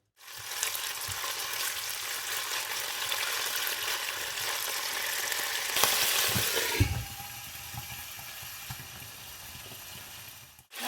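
Meat fries in oil in a pan for a Turkish meat and green bean dish, giving a loud, steady, close sizzle; a brief clatter of stirring interrupts it before the frying settles into a softer hiss.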